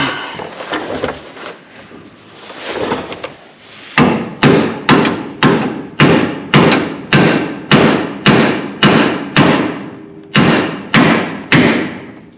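A hammer pounds on the front end of a dirt-track race car, at first in an irregular clatter, then in about a dozen loud, evenly spaced metallic blows close by, with no talking.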